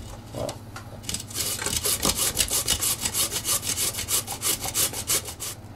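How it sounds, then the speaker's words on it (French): Potatoes are rasped on the coarse blade of a grater, giving repeated scraping strokes in a quickening rhythm. The strokes are close and fairly loud, with no talking. "on va les râper ou utiliser une mandoline par exemple"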